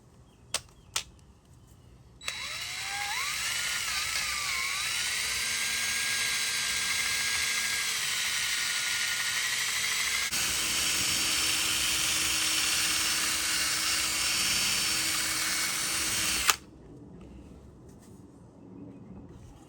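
A power sander whirs loudly and steadily for about fourteen seconds while wet-sanding a Lexus logo emblem, its pitch shifting slightly at the start, then cuts off, leaving quiet room noise.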